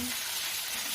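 Slit green chillies and ground cumin fry in hot oil for masala oats, giving a brief, close, steady sizzle.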